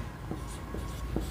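A pen writes on paper while a class 10 maths solution on cylinder volume is worked out, giving three or four soft, brief scratching strokes, close and quiet, with no talking.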